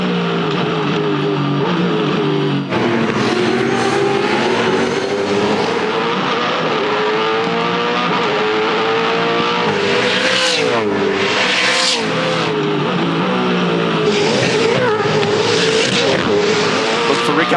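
Race cars compete at the Hamilton 400 street race, with loud engines roaring and revving through gear changes and sweeping past in waves, while a commentator talks over the continuous noise.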